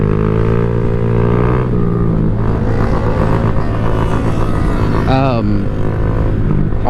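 Honda Grom motorcycle engine droning loud and steady throughout a wheelie, with a brief rising rev near the end and a voice talking over it.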